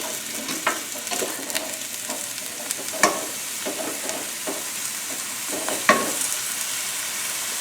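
Broccoli and zucchini frying in a pan make a steady close sizzle punctuated by repeated clacks and scrapes of stirring, including two sharper knocks, no talking.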